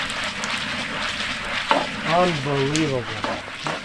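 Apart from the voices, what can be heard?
kettle corn being stirred in a big kettle over a fire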